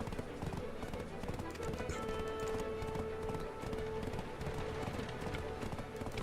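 Donkey hooves clip-clopping in a fast steady rhythm as the animal is ridden in a game, heard alongside music and other busy background sounds.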